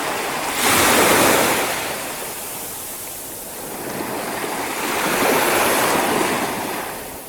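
Ocean waves surge and wash in close by at Hoi An, Vietnam, swelling twice to louder crashes with a steady roar of surf and wind between.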